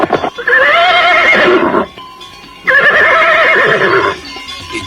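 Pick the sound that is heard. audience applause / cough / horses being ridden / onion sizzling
horses being ridden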